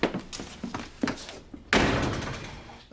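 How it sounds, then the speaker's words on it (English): An office door is shut with a firm slam partway through, following muffled speech and footsteps, then a lingering thud and room noise. "You wouldn't mind closing the door on the way out,"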